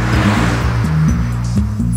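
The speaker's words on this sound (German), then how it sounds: "Hier in diesem Audi arbeitet ein 2-Liter Diesel, 170 PS und ein gewaltiges Drehmoment." An Audi A6 with a 2-litre 170 hp diesel engine driving, a steady close engine drone with shifting low tones and constant road noise, no talk.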